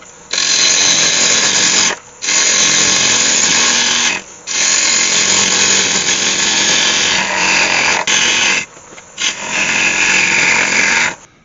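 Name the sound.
wood lathe turning a yew lidded box with a chisel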